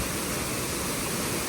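Curug Putri Palutungan, a waterfall in Kuningan at the foot of a mountain, gives a dense, constant roar of falling water, close and even throughout, with no talking.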